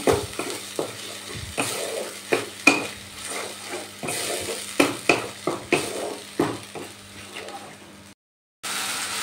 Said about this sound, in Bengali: এবার এই ধনেপাতার পেস্টটাও কিন্তু মশলার সাথে কষিয়ে নেব